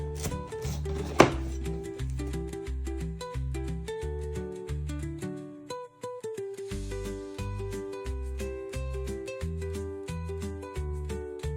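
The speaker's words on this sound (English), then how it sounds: "So I'm just quartering the carrot, right?" A knife cuts a carrot into quarters, chopping in a quick, even rhythm of close board knocks throughout, with a brief louder strike early on.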